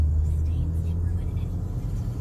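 A car drives along a residential road lined with greenery, giving a steady low engine rumble and road noise throughout, fairly loud and continuous, with no speech over it.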